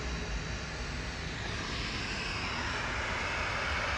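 A TUI Boeing 737-800 jet lines up for takeoff at Manchester Airport, its engines giving a steady, loud broadband roar that holds evenly throughout with no voices.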